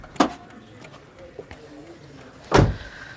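On a 2022 Daihatsu Ayla D+ manual, the trunk release lever under the driver's seat is worked: a sharp close clunk, faint rattles and clicks, then a second heavier thud.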